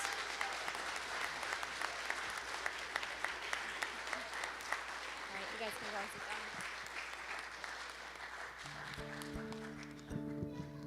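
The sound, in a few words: congregation applause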